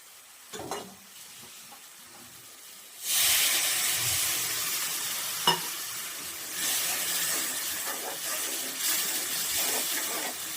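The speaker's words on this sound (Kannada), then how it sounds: "ಒಂದು ಅರ್ಧ ಲೋಟ ನೀರು ಹಾಕಿ ಹಸಿ ವಾಸನೆ ಹೋಗೋವರೆಗೂ ಫ್ರೈ ಮಾಡೋಣ." Spice masala for a potato fry and gravy hisses and sizzles in a pan after water is added. A loud, steady steam hiss starts after a quiet moment, broken by a few stirring knocks.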